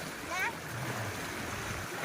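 Overflowing river water in Calumpit, Bulacan, a continuous broadband rush and wash with a brief splashy swirl early on, steady and moderately close, with a voice faintly under it.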